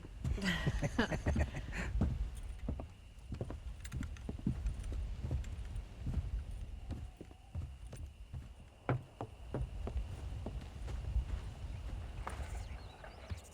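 Horse hooves clip-clop on a ranch in the Red Dead Redemption video game, with irregular close hoofbeats, some harness jangling and scattered thuds, and no talk over them.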